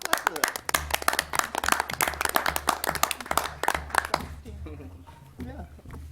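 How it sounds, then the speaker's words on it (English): A group of people clap together in a meeting room, a dense burst of applause lasting about four seconds that thins out and fades, with talking underneath and after it. "we should clap for that"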